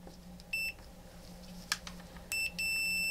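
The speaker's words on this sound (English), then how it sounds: "when in beep mode, any components with a resistance below 50 ohms, the meter will beep" Short electronic beeps from a multimeter in continuity mode, checking a Sony TV power supply for shorts, sound a few times, high and clean, over a quiet background hum, with a brief click between them.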